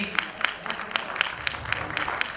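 A crowd at a community honouring ceremony claps in a steady, rhythmic beat, with sharp hand strikes landing about four times a second over a low background murmur.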